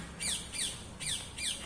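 A common myna chick calls from nearby, four short raspy chirps at a steady pace, set against faint background noise.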